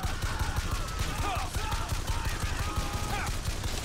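Rapid, dense automatic fire from a minigun in BioShock Infinite rattles in continuous bursts, loud and close, with faint whooshing effects drifting through the barrage.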